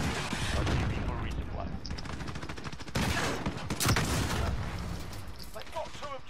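Rapid bursts of gunfire and explosive booms fill a Call of Duty match on the Shipment map, dense and continuous throughout, with a player's voice talking over the shooting.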